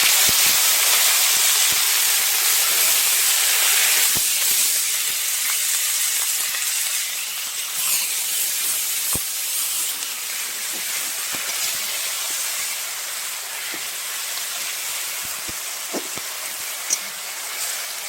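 Ground onion paste hitting hot oil in a village kitchen while fish curry with potatoes is cooked, a loud, continuous sizzle with scattered sharp crackles and pops that slowly settles to a softer hiss.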